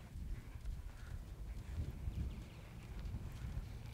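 Hooves of a ridden paint horse clop in a steady gait across the ground under strong wind noise on the microphone, with no talking.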